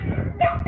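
A dog gives a brief, close, loud bark-like yelp in a single quick burst.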